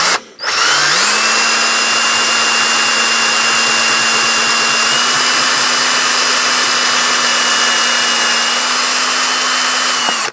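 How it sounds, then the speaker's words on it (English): Step drill bit boring into a plastic waterproof action camera case: a power drill spins up and holds a steady, loud, whining drone close by for about ten seconds, with a constant high hum. "The thing with these drill bits, because they're stepped, you just keep going, look, and it makes the hole bigger."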